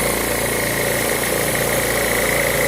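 An air compressor motor runs steadily after being reinstalled, a loud, constant droning hum with a throbbing rhythm that carries unchanged throughout, with no talking.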